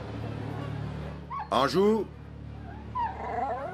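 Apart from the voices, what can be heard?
dogs barking and whimpering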